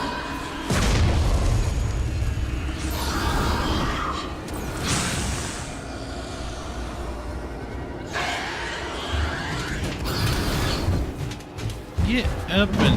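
A flashbang grenade goes off in the Alien: Isolation video game with a deep boom and bursts of rumbling, whooshing blast noise, followed by further booms, all under frequent talking.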